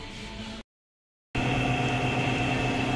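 The noisy motor of an automatic washing machine runs after the wash cycle, giving a steady mechanical hum with a tonal whine. The sound cuts out for under a second, then resumes louder, and no one speaks.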